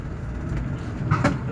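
Tram on route 8 in Lviv, a steady low rumble of rail traffic with faint clanks and a brief squeal near the end, no speech.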